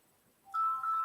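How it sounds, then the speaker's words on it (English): A phone ringtone for an incoming call starts about halfway through, a steady electronic tone playing continuously to the end at moderate loudness with no talk over it. "He got phone calls."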